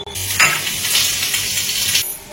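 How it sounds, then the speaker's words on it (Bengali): Pumpkin curry and potato with cauliflower frying in a pan, a loud bright sizzle that swells and then cuts off after about two seconds, no talk. "কুমড়ো তরকারি আর আলু ফুলকপি ভাজা হচ্ছে"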